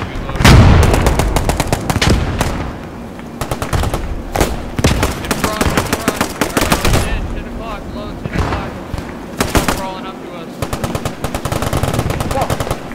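Dense, loud bursts of rifle and machine gun fire in the WWII video game Post Scriptum during a D-Day Normandy battle, with near and distant shots overlapping for the whole stretch and voices talking over the fighting.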